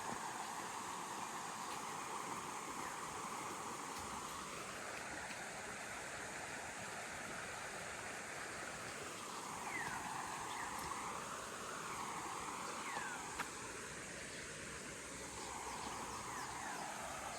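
A rocky river stream flowing beside a campsite, a steady, full rushing of water that holds constant throughout, with a faint shifting tonal drone layered beneath the flow.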